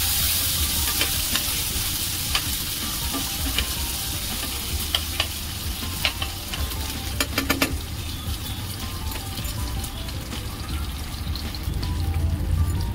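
Garlic and ginger sizzling in hot oil for shahi paneer, a steady crackling fry with occasional stirring scrapes and clinks, close and fairly quiet, no voices.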